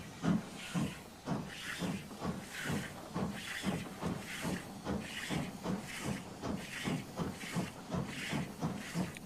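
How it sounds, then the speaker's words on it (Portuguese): An old wood-burning steam locomotive chuffs out rhythmic bursts of hissing steam, roughly two pulses per second, steady and fairly close, with no voices over it. "Essas velhas locomotivas queimam madeira para gerar vapor."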